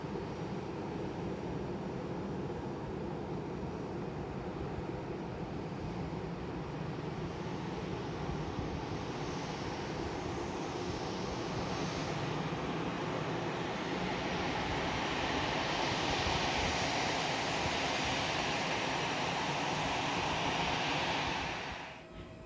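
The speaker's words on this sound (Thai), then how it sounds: "Airbus A320 ลำนี้นะครับเป็นหนึ่งในเครื่องบิน A320 ของสายการบินไทยแอร์เอเชียครับ" A Thai AirAsia Airbus A320 at Khon Kaen airport in the early evening gives off a steady, broad jet engine roar that holds for the whole stretch, swells slightly near the end, then drops off.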